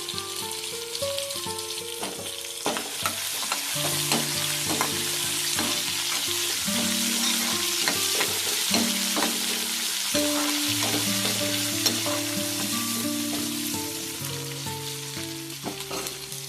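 Chopped tomato and curry leaves frying in oil, a steady close sizzle with frequent crackles and the scrape of stirring running throughout over a faint tonal hum.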